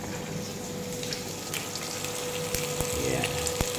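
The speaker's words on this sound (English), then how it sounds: "Sizzling bacon." Bacon sizzles in a frying pan in a home kitchen, a steady close hiss and crackle with a few sharp pops and faint background voices.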